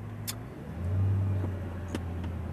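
Audi R8 supercar on the road, its engine rumbling low and steady with a brief swell of revs, heard from inside the car with no talk.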